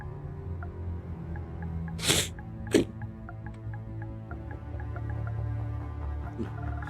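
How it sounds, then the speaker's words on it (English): Two sharp sneezes, one after the other, a loud burst followed by a shorter second one, over a quiet background hum and faint game sounds. "I gotta sneeze again"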